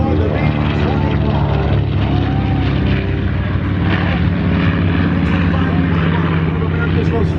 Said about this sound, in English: Beautifully restored, the B-25.